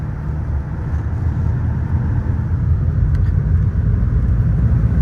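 A Toyota Tacoma pickup carrying a load of lumber pulls away from a light, its engine giving a loud, close, continuous low rumble that builds slightly as it gets moving, with no talking.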